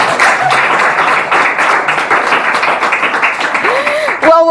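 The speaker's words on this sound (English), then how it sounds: "So clap for me" A studio audience claps in a steady, fairly close burst of applause, which breaks off abruptly near the end as a short musical tone cuts in.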